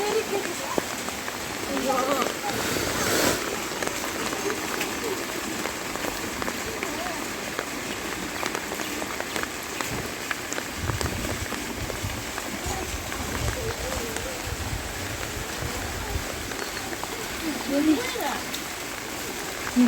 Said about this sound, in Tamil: ஃபுல்லாக செம்ம மழை